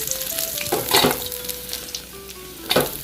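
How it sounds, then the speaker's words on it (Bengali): Snakehead fish fries in hot mustard oil in a pan, a loud continuous sizzle and crackle with occasional sharper spatters and faint tonal squeaks. "এই যে আমার মাছ ভাজা হয়ে গেছে"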